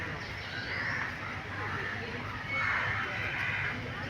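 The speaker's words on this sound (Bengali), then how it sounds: "আপনারা শুনতে পাচ্ছেন পাখির কোলাহল" Birds call in a city park in Bogura, including crow-like caws and softer bird chatter, moderately distant over a constant outdoor hiss.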